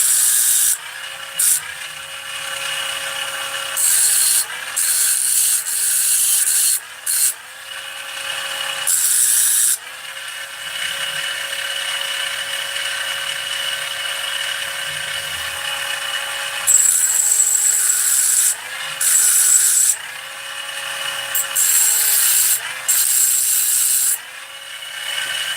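A rotary grinding tool cuts a timing notch into an engine flywheel, its high whine rising and dropping in repeated bursts with short pauses between passes, close and steady with no talk.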